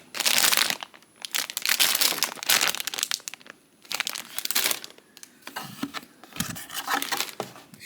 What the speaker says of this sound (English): So the pieces are bagged in 3 different plastic bags